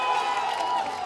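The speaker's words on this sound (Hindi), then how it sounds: "अमित कुमार, CPI-ML के नेता, तालियों के साथ स्वागत कीजिए" A crowd at an Arrah election debate greets CPI-ML leader Amit Kumar with a brief, steady wash of applause and cheering, dense and moderately loud, heard on its own without talk.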